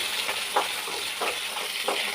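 Small onions frying in a pan for chutney, a steady close hiss and sizzle with soft bubbling bursts rising and falling.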